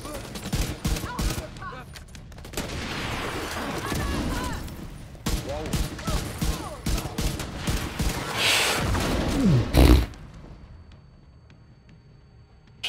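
Gunfire in The Division 2 during the Descent mode of Year 5, a dense stream of rapid shots and bursts with a louder blast near the end, over game noise and a man's speech.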